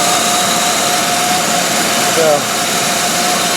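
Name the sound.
1999 Pontiac Grand Am 2.4L engine idling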